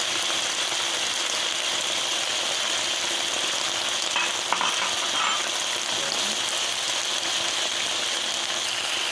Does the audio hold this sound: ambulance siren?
no